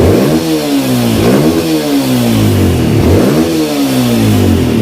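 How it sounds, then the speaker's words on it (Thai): Motorcycle engine freshly bored up with a 60 mm ceramic cylinder, revved hard close by in repeated rising and falling throttle blips, loud and gravelly with no talking over it. "เร่งหมื่นรอบขึ้นได้เลยครับ"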